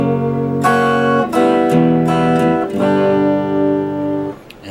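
Guitar plays the chorus riff of Silverchair's Suicidal Dream, a few ringing chords on low then high strings moving to a G, each sustained and overlapping, clear and close with no voice, fading at the end.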